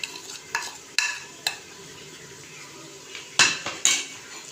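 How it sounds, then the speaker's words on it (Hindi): Spices being stirred into mashed potatoes with a spoon against a pot, a series of sharp scraping taps and knocks at irregular intervals, quiet in between, with a louder cluster of clinks near the end. "सारे मसालों को हम अच्छे से मिक्स कर लेंगे"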